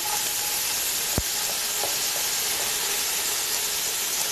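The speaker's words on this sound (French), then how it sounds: "dans une autre cocotte, j'ai également rajouté une petite larme d'huile et je rajoute tour à tour nos oignons," Onions, tomato and parsley go into a little oil in a pot, producing a steady, hissing sizzle throughout with one brief clack near the start, close and fairly even.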